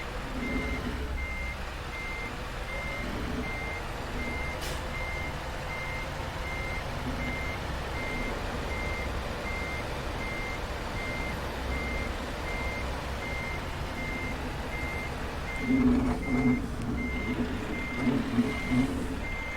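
Reversing beeps from a truck in Euro Truck Simulator 2, a steady evenly spaced electronic tone repeating over a constant engine rumble for the whole stretch, with a brief heavier engine surge near the end and no voices.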